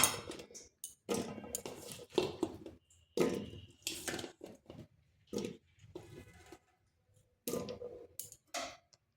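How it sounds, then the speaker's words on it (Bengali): Diced potato chunks are tipped into a pressure cooker, giving a run of close clattering knocks and light clicks in short irregular bursts separated by brief quiet gaps. "এরপর আলুগুলো এই কুকারের মধ্যে দিয়ে দিচ্ছি"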